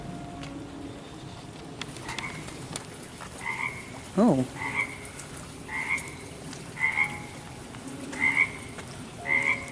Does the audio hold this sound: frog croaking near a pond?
yes